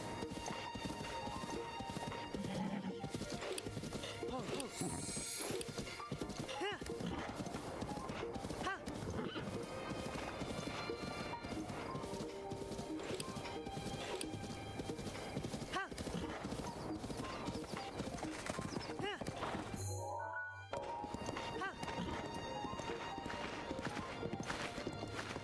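Rhythmic hoofbeats of a horse galloping in Zelda Breath of the Wild, steady and close over game ambience and music, with a brief whinny and a short dropout near the end; a voice talks over it at times.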